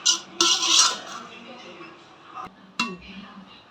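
Ghee rice is stirred in a pot on a dosa griddle: a spoon scrapes and clinks against the metal in short bursts with pauses between, and a voice talks faintly underneath.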